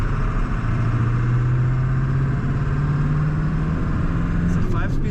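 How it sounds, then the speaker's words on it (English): A diesel engine runs steadily in a 1997 Ford F-250 extended-cab long-box pickup with a 5-speed manual, a continuous low drone with a faint turbo whine layered over it, loud and close throughout. "Hear the turbo."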